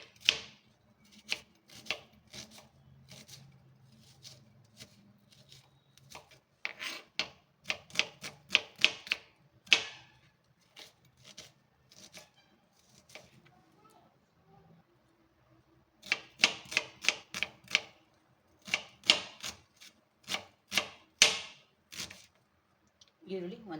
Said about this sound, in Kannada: ಈಗ ನಾನು ಮೀಡಿಯಮ್ ಸೈಜ್ 2 ಈರುಳ್ಳಿ ತೊಗೊಂಡಿದ್ದೀನಿ. ಇದು ಕಟ್ ಮಾಡ್ಕೊಳ್ಳೋಣ.